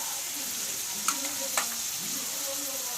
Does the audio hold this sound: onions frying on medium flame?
yes